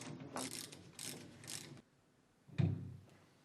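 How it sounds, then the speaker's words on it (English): Puller drawing the flange off a Volkswagen Amarok rear axle, several close ratcheting metallic bursts followed by a loud clunk as the flange breaks free, with no talk. "Pull the flange off with the puller."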